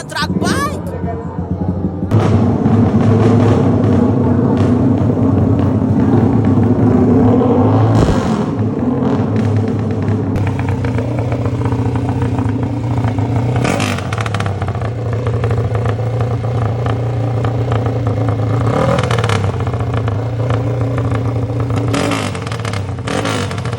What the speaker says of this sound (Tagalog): paanda rin yung drag bike. Naka-metanol pa, drag bike talaga ng drag bike.